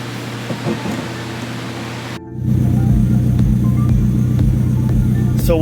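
A Toyota GR86 tuned with EcuTek runs a dyno pull on pump gas. A steady drone cuts out briefly, then a louder, rising engine roar with a dense rumble takes over and holds.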